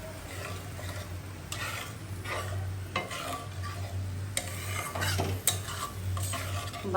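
Spice paste of chili, coriander, turmeric and salt sizzles in a pan while a utensil scrapes and stirs it in repeated strokes, close up over a low steady hum.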